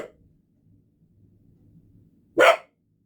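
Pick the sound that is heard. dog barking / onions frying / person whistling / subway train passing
dog barking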